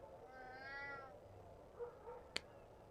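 A cat in the video game RuneScape 3 gives a single drawn-out meow, soft and close over quiet game ambience, followed by a few faint small sounds and a sharp click.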